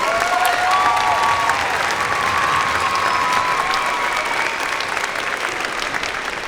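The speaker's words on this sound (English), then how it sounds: "And sure, you can applaud for Sarah." Audience applause for an alto saxophone soloist at a school district band festival, a steady dense wash of clapping with faint crowd noise, continuous throughout.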